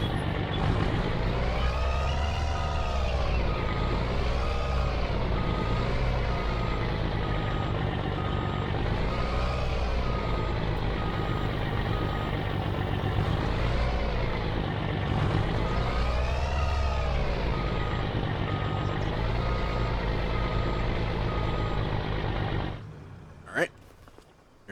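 A truck reverses in the farming game Farming Simulator 25, its reversing alarm beeping over a steady, droning engine that rises and falls in waves before cutting off abruptly near the end.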